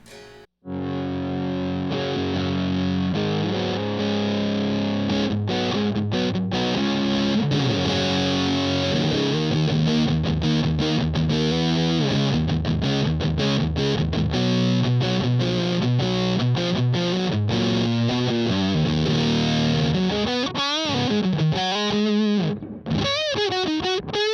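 Electric guitar through a Way Huge Russian Pickle distortion pedal, sustain set about halfway, riffing for a long stretch, loud sustained chords and bends with a thick, saturated tone, ending in sliding, wavering notes.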